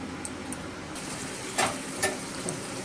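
Ginger frying in a pan gives a steady, close sizzle with a few brief louder crackles and spatters, and no voices.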